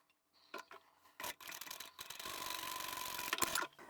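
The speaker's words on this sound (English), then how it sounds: "We're going to sew part way down this side." A sewing machine stitches fabric, sewing part way down one side of a folded piece; quiet, with a few short starts and handling noises before a steady whirring run of stitching over the last couple of seconds.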